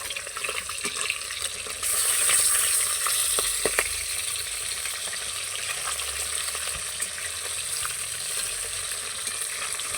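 Pieces of katla fish fry in oil with a steady hissing sizzle that swells briefly, with a few faint utensil clicks, and no voices.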